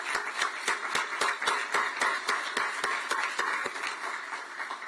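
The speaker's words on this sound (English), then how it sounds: "Give them a round of applause." A small group of people claps for a university search committee at a press conference, giving sharp, distinct individual claps in a steady patter that stays moderately loud and fades slightly toward the end.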